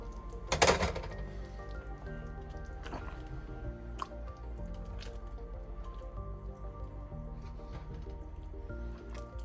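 A pot of pork chile verde mole simmers gently, giving soft bubbling, squishy pops and occasional small drips, with a sharper splat near the start and quiet low gurgling throughout.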